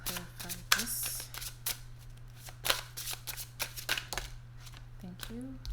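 Tarot cards are shuffled and drawn up close, with repeated quick riffling bursts and crisp flicks and slaps at an uneven rhythm over a steady low hum, and a voice talks in between.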